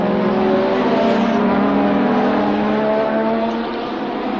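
Formula 1 race cars at the 1985 British Grand Prix at Brands Hatch, a loud continuous engine roar with steady droning tones as cars cross the line, heard without talk over it.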